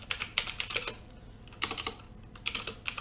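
Close, crisp typing on a computer keyboard as commands are entered, coming in quick bursts of clicks with short pauses between them and no talk.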